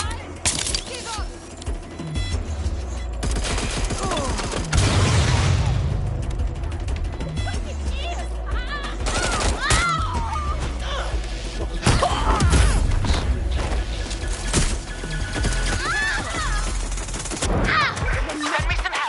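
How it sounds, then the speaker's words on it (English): Bursts of gunfire and automatic weapon fire in the video game Watch Dogs Legion, loud and sustained with crashes and thuds, while voices shout over the fighting. "Gunfire over here."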